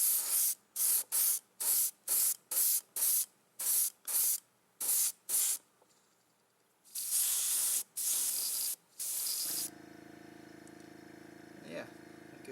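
An airbrush sprays candy metallic paint onto a spoon in repeated short bursts of hiss, then a few longer sprays, before a low hum with faint background speech takes over.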